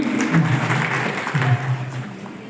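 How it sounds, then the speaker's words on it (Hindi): An audience at a social harmony meeting of a hill-region migrants' welfare committee in Indirapuram claps loudly in thanks, a dense, steady applause with a voice speaking over it. "जोरदार ताली से उनका धन्यवाद दीजिए।"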